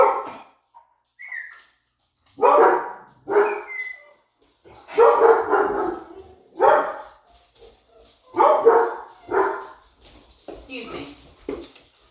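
A puppy barking indoors in a series of sharp, separate barks and yips spaced a second or so apart, close and loud, with a few short gaps between bursts.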